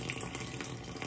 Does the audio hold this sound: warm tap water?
yes